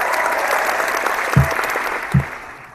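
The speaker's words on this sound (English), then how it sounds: "I didn't do a drum roll, but you get the applause." Applause sound effect: a steady crowd clapping wash, loud and continuous, with two low thumps near the end as it fades out.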